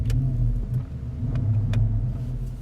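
Steady, deep engine rumble from a 2015 Porsche Panamera Turbo's 4.8-liter twin-turbo V8, a close, continuous low drone with faint clicks on top and no talking.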